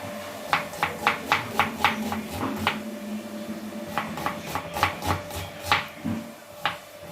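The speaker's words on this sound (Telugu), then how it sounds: "చిన్న చిన్న పీసెస్ కట్ చేసేసుకోవాలండి ఇలా కొంచెం చిన్నగా కట్ చేసుకోవాలి ఆనియన్స్ అండ్ పచ్చిమిర్చి కూడా ఇలా చిన్న చిన్నగా కట్ చేసుకోవాలి" A knife chops onions and green chillies into small pieces on a board, making a quick run of crisp, evenly spaced close thuds, a short pause, then another burst of cuts slowing toward the end.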